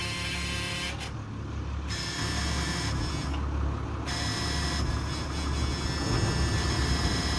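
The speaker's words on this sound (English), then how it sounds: "So both engines are fired up." Two boat engines idle steadily at close range, a continuous low rumble with a constant mechanical hum and no voices.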